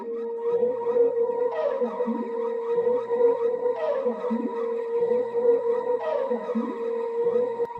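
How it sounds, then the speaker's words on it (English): A breathy Cymatics flute sample plays a looping melody with wavering sustained tones and repeating phrases, heard alone at moderate volume in a Latin guitar loop production context. "the last sound I got right here is this flute from Cymatics"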